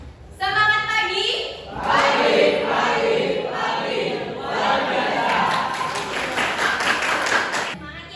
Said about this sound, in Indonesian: kalian jawabnya pagi, pagi, pagi, luar biasa sambil tepuk tangan